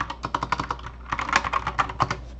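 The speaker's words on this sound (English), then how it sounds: "My keyboard is very annoying" Fast, steady typing on a mechanical keyboard with Cherry MX switches, crisp clicky keystrokes in quick bursts with a short pause midway, close and clear over a low hum.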